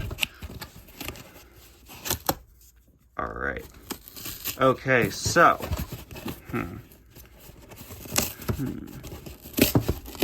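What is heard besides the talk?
ripping open toy packaging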